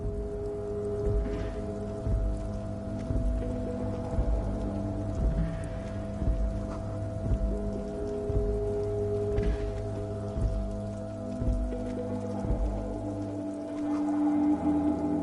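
Rain falls steadily in a continuous patter, a soft even wash with occasional heavier drops, lasting throughout with no one speaking.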